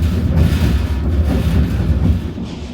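A White Pass scenic railway train rolling along mountain tracks, a loud, steady low rumble with continuous wheel-on-rail clatter heard up close.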